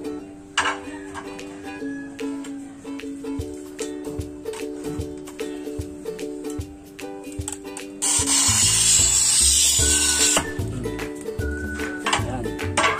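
A tile cutter slices through floor tile, producing a loud, harsh scraping burst of about two seconds near the end. Steady background music plays throughout, with a few short tool clicks and knocks.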